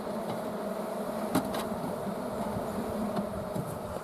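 Honey bees buzz around an open beehive that has a solid sheet-material top while smoke is puffed onto them; the hum is a steady, dense drone throughout, with no voices.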